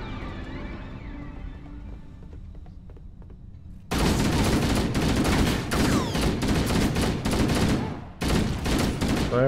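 Gunfire in the video game Halo: Combat Evolved, quieter game sounds giving way to loud rapid bursts of automatic fire with brief pauses between volleys.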